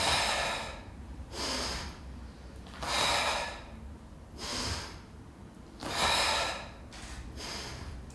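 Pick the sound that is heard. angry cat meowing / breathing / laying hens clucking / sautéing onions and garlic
breathing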